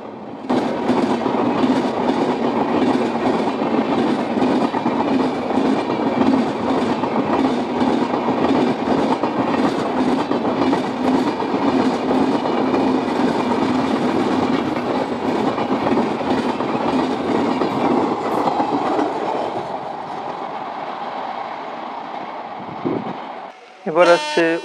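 Diverted express train passing via Howrah in heavy fog, a long loud rolling rumble with clickety-clack that fades out near the end, with a voice speaking over it.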